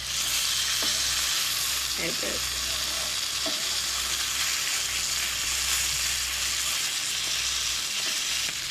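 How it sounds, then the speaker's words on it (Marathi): Mackerel fish fries in a pan over a low flame, producing a dense, continuous close sizzle with a few faint clinks and scrapes, and no voices. "सो असो करून स्लो गॅसीर असो फ्राय करूंक जाय."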